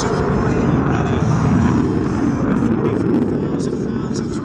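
Loud, steady jet roar from an F-18 Super Hornet's twin-engine exhaust at the 2011 Miramar air show, a dense broadband rumble that holds for several seconds with a commentator's voice mixed in.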